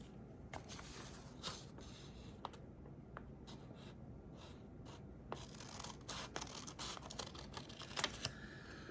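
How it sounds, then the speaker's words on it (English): Scissors snip through a paper seed packet to cut it roughly in half, giving soft, faint crisp snips and paper rustles spaced irregularly close by. "this is too long for a seed packet, so I'm going to cut it basically in half"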